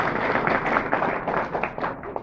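An audience claps at a network-marketing talk, a brief burst of fairly dense applause at moderate volume, with no speech over it.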